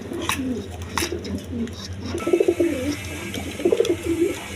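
Domestic and foreign coloured pigeons coo in soft, repeated rolling phrases, close by, with a brief clatter and rustle early on before the cooing grows more prominent toward the end.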